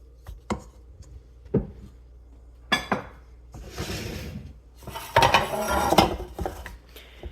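A metal muffin tin is handled and oiled for butter tarts: close clanks and knocks of metal, then a stretch of rubbing and scraping, with no talking.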